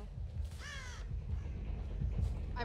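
A crow in Dead by Daylight gives two or three harsh caws, one clear caw early and a shorter one at the end, over a low background rumble.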